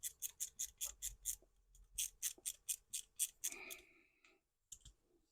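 A small ratchet screwdriver clicks in quick, even bursts while screws go into a Toyota Supra MkIV model car, the sharp ticks close and clear with a brief shuffle and pause near the end.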